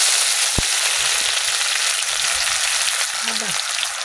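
Dried red chillies and cumin seeds sizzle in hot oil for a curry, a loud continuous frying hiss with a few sharp clinks of a utensil against the pan.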